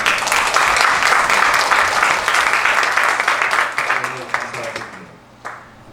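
Sustained audience applause at a Korean church pastors' seminar in New Jersey. Dense, loud clapping fills most of the clip, then thins to scattered claps and dies away near the end.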